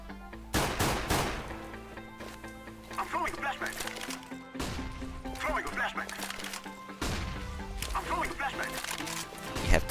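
Gunfire in the video game CS:GO, sharp cracks in quick bursts spread across the clip, mixed with game effects while someone talks over it.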